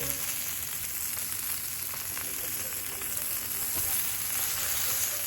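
Butter melting on a heated discada disc, a soft, steady sizzle and crackle with a faint rain-like patter, close and even, growing slightly louder toward the end.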